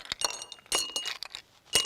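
Ice cubes dropped into drinking glasses while drinks are being served, giving several bright glassy clinks in quick succession, close and alone with no talk.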